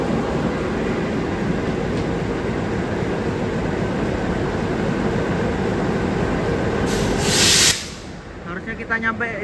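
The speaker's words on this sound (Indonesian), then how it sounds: "kita bertemu dengan kereta api Gaya Baru Malam Selatan yang baru aja berangkat" Indonesian Gaya Baru Malam Selatan passenger train rumbling steadily past at night, a loud continuous roar of wheels and carriages that cuts off abruptly near the end, followed by quieter ambience.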